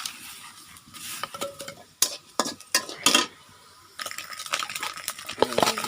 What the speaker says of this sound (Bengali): এখন হলো ছেলের জন্য ভাত ভাজতেছি, পেঁয়াজ মরিচ রসুন এগুলো দিয়ে।